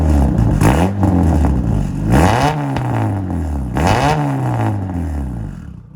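A turbocharged D16 engine in an EK Honda Civic race car runs loud and close, revving in repeated sweeping rises and falls roughly every two seconds, with raspy, clattery exhaust and no talk over it.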